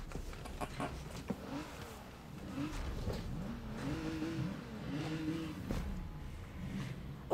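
Luxury car engine revving and accelerating in the racing game Forza Horizon 3, a steady mid-level engine drone with rising and falling pitch sweeps, heard alone without talk.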